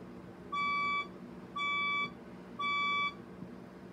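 A Felicity red fire alarm sounds three evenly spaced electronic beeps, each about half a second long, loud and alone against a faint background hum.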